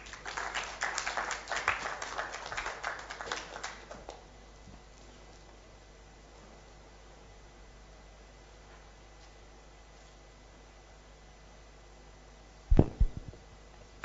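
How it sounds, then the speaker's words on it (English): Audience applause at the Afritex 2015 conference, a lively patter of many hands for about four seconds that then fades to a quiet hum, with a sharp thump near the end. "Another round of applause for him"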